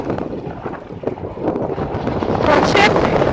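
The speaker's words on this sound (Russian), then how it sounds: "Ветер страшный." Strong wind in a snowstorm in Odesa roars and buffets a nearby microphone, a steady rushing gust that builds louder toward the end.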